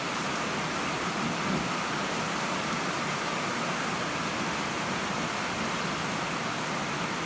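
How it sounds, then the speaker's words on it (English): Heavy rainstorm pouring down as a dense, continuous hiss that fills the whole stretch evenly, steady and loud with no voices. "we got a hell of a rainstorm"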